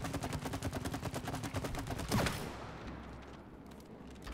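Rapid video-game gunfire from the co-op game It Takes Two, a steady burst of shots aimed at a target, loud and continuous for about two seconds before thinning into scattered impacts and mechanical noise.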